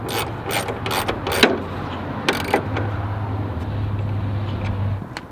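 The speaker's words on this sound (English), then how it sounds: "Now we'll reinstall the 10mm bolt, which will hold the hinge to the rest of the hood." Ratcheting clicks from a wrench driving a 10mm bolt into the hood hinge of a John Deere LT160 lawn tractor, several quick bursts of close, sharp ticking over a steady low hum.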